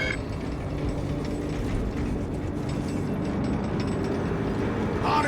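Crane machinery in Warhammer 40k Space Marine 2 runs as a steady, dense mechanical clatter of ratcheting and grinding gears, loud and continuous with a slight rise at the end.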